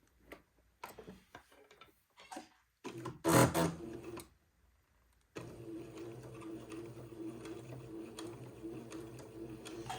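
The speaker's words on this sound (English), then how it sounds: "I've got my machine set to a straight stitch." A sewing machine straight-stitches entredeaux to a lace panel while repairing an antique baptismal gown, heard in short bursts with ticks and pauses, then a longer steady close whir.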